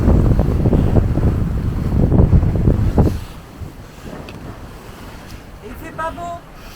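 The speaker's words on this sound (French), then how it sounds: "le vent, a priori, pour le moment, il est relativement autour de 20 nœuds" Wind of about 20 knots gusting across a sailboat at sea near Gran Canaria, roaring microphone buffeting with waves beneath, strong at first then easing, with brief faint voices later.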